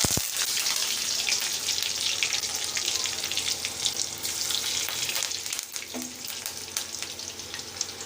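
Crushed garlic and curry leaves hit hot oil with a bright, loud, continuous sizzle and spattering crackle, close up, with a brief clatter near the end.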